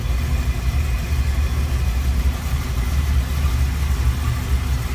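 A 1960 Chevrolet Impala Bubbletop with a 350 Chevy V8, headers and an Edelbrock carb runs at a smooth, steady idle. Its low rumble stays constant and close throughout, with no speech.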